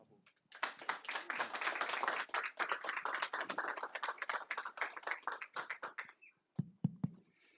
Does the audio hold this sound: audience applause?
yes